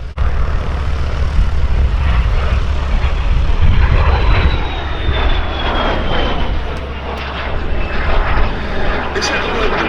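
A de Havilland Vampire jet flies at the Duxford Summer Air Show, a loud, steady jet roar with a rising whine that dominates throughout, while a voice talks over it.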